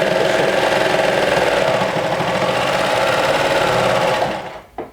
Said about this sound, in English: This way I only stitch in the pocket.